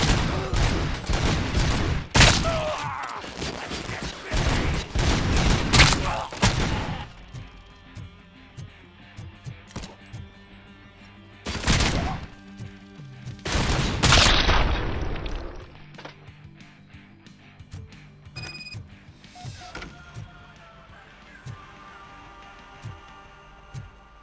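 Gunfire in the video game Robocop Rogue City: a dense, close fusillade of rapid shots for several seconds, then scattered louder bursts and volleys with lulls between them, tapering off toward the end.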